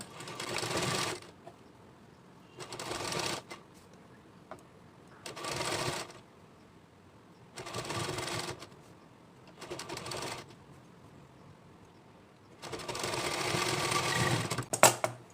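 A sewing machine joins a puffed ghoti sleeve onto a kids' blouse, running in six short, close bursts of rapid stitching with brief quiet pauses between them and no voices.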